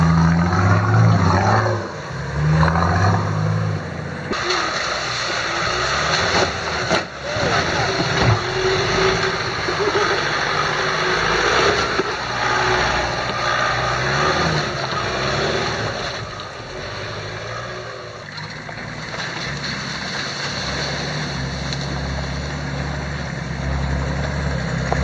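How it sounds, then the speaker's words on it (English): An old 4WD vehicle on a rough bush track rattles and grinds continuously, its exhaust drone buried under the clatter, with wind noise throughout and no pauses. "It's almost hard to hear the exhaust over all that rattling and grinding."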